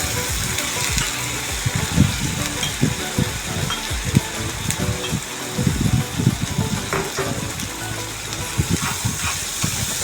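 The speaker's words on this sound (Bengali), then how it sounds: "সেইগুলো সব দিয়ে দিব দিয়ে আমি আরেকটু নাড়াচাড়া করবো" Pangas fish curry sizzles in a pan with scraping and clattering as it is stirred, continuous and close, with bursts of low knocking throughout.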